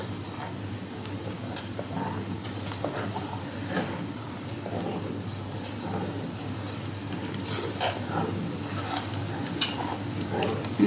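A spoon stirs a butter shrimp sauce in a pan, soft scraping and gentle sizzling close by, with occasional utensil clinks over a steady low kitchen hum.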